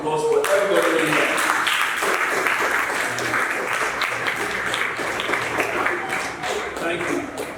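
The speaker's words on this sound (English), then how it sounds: "Once more, can we give a round of applause for everybody here?" Sustained audience applause fills an auditorium at a university pitch night program, a dense steady wash of many hands clapping at close range that holds throughout, with some background voices mixed in.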